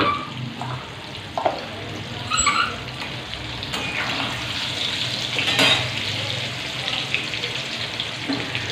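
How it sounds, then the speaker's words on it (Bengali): Potato pieces fry in oil in a kadai wok, giving a steady, close sizzle and crackle throughout, with a few clinks of a utensil against the pan and no talk. "কড়াই আমি আলুগুলো ছেড়ে দিয়েছি আলুগুলো একটু ভাজা ভাজা হয়ে যাক"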